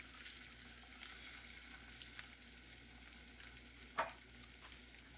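An egg fries in a pan after being turned with a spatula, making a steady, close sizzle with a few brief scrapes and pops and no talking.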